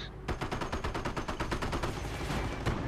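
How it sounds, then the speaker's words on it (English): Rapid machine gun bursts and overlapping gunfire in a WWII strategy video game battle, with Shermans and mortars in play; dense, continuous volleys of sharp cracks pound on loudly throughout. "Oh, incoming fire from everywhere."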